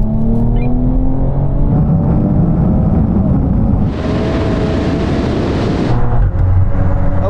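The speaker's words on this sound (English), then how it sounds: "now we're going to do another rolling race, once again from 50 miles an hour" Hot hatch cars in their sportiest setting, manual mode in third gear, accelerate hard in a rolling drag race from 50 mph, one of them a BMW. Engine roar builds steadily and loudly from inside the car, with rising rev tones and no talk.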